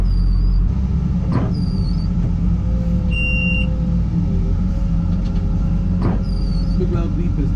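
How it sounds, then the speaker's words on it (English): A loud electronic warning beep from a loader signalling a loose fork attachment sounds once over the steady rumble of its idling heavy engine, with a few clanks nearby. "Big loud beep is telling me that the forks are, the attachment is loose."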